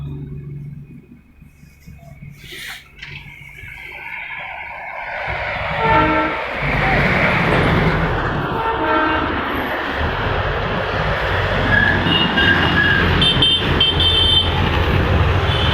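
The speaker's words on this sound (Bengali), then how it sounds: "রাতের ট্রেন বোধহয়।" A train rumbles past near Batasia Loop in Darjeeling, building from quiet to a loud, steady roar that lasts to the end, with a horn blast partway through.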